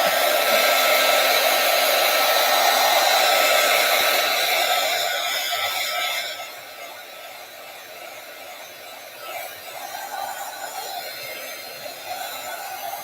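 A hair dryer blows loud and close over a handmade card for about six seconds, then drops to a quieter, steadier whir as the airflow shifts, with no speech over it.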